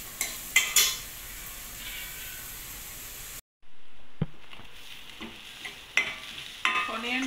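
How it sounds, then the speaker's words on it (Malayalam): Onions sautéing in a pan for mushroom curry give a steady close sizzle broken by scraping stirs and clinks of a utensil, with a brief drop-out midway. "ഓണിയൻ സോട്ട് ആവട്ടെ"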